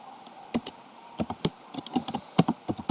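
Quick, uneven keystrokes tap on a computer keyboard while commands are entered, close and moderately quiet, with no talking.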